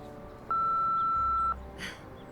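A telephone dialing tone from the video game Nancy Drew: Midnight in Salem sounds as a single clean, steady beep lasting about a second, loud and close over quiet game ambience.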